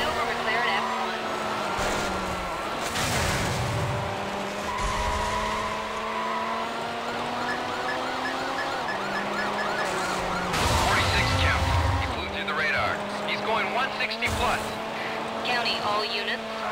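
A silver McLaren F1 races in Need for Speed: Hot Pursuit 2 with a loud, continuous engine whine that rises and drops through gear changes, along with occasional tire noise. Radio chatter talks over the driving throughout.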